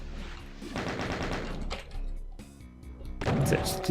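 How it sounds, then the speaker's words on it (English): Gunfire from a shotgun-wielding enemy in Doom, heard as two bursts of blasts with a fainter, quieter stretch between them. "Ow, what shot? Oh, there's a shotgun guy up there."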